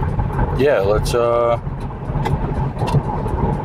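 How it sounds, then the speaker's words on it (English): A car is driven along with a steady low road and engine rumble underneath, while someone talks over it throughout. "Just driving the car since I got it back"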